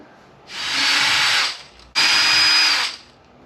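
A power drill backing screws out of the cover of a Maxx Slash RC car: two close, loud whirring bursts, each about a second long, separated by a brief pause.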